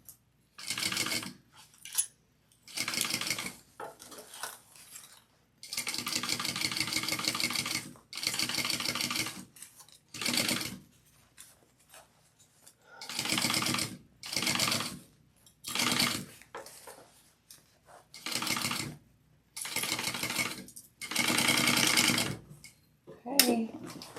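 Sewing machine stitching a crossbody bag, heard close up in repeated bursts of whirring stitches, some long and steady, others short and choppy, with quiet pauses between runs.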